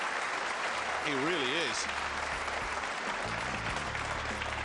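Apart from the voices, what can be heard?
applause at a pool match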